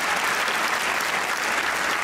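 Studio audience applause on a Pakistani comedy talk show, a dense, steady wash of many hands clapping throughout, loud and close with no speech over it.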